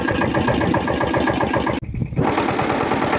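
A Kentavr 200V walk-behind motor tractor engine running loud and close with a steady mid-pitched chug, a brief cut-out near the middle, then the engine picks up and keeps running.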